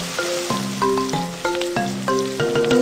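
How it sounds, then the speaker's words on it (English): In a cartoon kitchen, an egg fries in oil in a pan, heard as a series of bright sizzling bursts and playful stirring effects in a steady rhythm, with no talking. "Let's start frying the egg."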